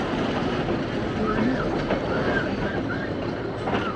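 The Ooty–Coonoor toy train rolls into Aravankadu station with a steady rumble of wheels on rail, faint squeals and rhythmic clatter, loud and close, with people talking over it.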